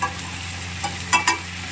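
Onions and tomatoes sauté for poha, a low steady sizzle punctuated by a few sharp clinks and scrapes of a spoon against the pan near the end.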